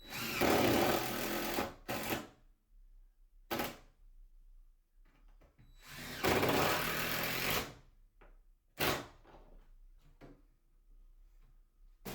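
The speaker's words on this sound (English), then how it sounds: "I'm just going to screw it into place" A power drill drives screws through backer board into a laundry room shelf bracket, with loud whirring bursts of a second or two separated by quieter pauses and light handling clatter.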